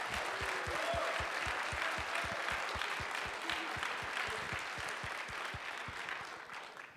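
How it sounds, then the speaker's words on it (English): An awards-ceremony audience at a collegiate cyber defense competition applauds in a sustained, even burst of many hands, fairly distant and moderate in level, fading slightly at the close. "Casey, round of applause."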